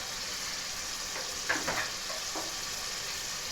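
Efo riro stew being stirred after blended crayfish goes in, a faint sizzle and frying hiss with a few soft scraping stirs in the middle, no talking.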